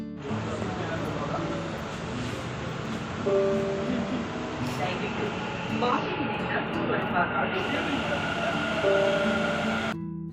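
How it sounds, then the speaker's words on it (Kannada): A Namma Metro train in Bengaluru rumbles in with a steady roar and rising and falling electronic tones, while voices murmur in the background. "ಮೆಟ್ರೋ ಬಂತು, ಮೆಟ್ರೋದಲ್ಲಿ ಹತ್ತಿದ್ವಿ"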